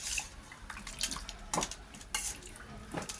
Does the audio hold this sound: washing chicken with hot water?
yes